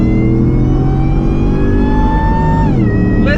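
Supercharged 750 hp Shelby F150 pickup accelerating hard in sport mode, its loud supercharger whine climbing steadily in pitch close by before dropping off as the transmission shifts.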